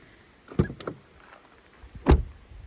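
A 2021 Mercedes E-Class AMG Line car door swings shut with a soft, muffled thud after a couple of light clicks, fairly close and otherwise quiet.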